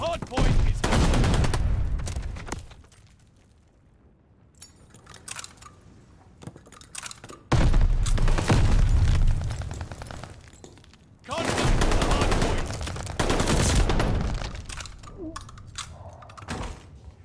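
Gunfire in Call of Duty Vanguard, loud heavy bursts of automatic fire in three long volleys, separated by quieter stretches of scattered clicks and thuds.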